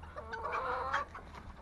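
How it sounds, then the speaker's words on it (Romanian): Hens cluck nearby in a short, busy burst of throaty calls at a household flock, with a low background hum beneath. "Să vă scot aceste găini afară."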